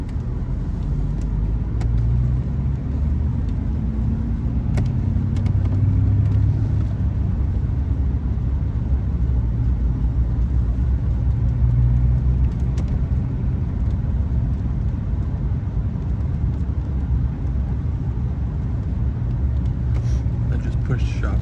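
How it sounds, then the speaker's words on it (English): A car, following a Jeep, drives home on the road in steady, continuous low rumble of engine and road noise, with light clicks and someone talking over it. "Parking brake off. In gear, and let's go."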